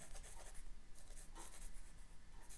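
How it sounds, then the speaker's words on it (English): A pencil draws lines on watercolor paper in quiet, scratchy strokes, a soft rasping rub repeating in short bursts close up, faint and alone without speech. "I can go in here with a pencil"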